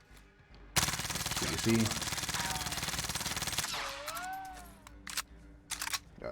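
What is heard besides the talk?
Mag 10 shotgun firing in a video game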